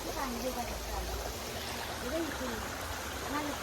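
Running stream water, muddy, gurgles steadily at low volume, with faint speech drifting over it.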